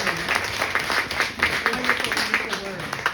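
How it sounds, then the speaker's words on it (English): A poetry reading audience gives warm applause to a poet, a steady patter of many hands that fills the room for a few seconds, with voices murmuring underneath. "Let's give it a nice round warm applause."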